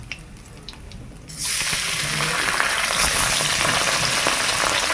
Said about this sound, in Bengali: এবার পাবদা মাছটা ভেজে নেব।